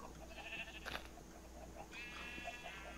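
Sheep bleat twice in a blocky sandbox video game, each call a short quavering cry of moderate loudness against a steady low background hum.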